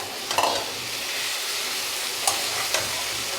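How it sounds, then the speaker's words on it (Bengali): Capsicum tossed into fried spices in a pan for a spicy mushroom curry: a few brisk stirring scrapes over a steady, hissing sizzle, close and without any talk. "ঠিক এই সময় আমি ক্যাপসিকামটা দিয়ে দেবো।"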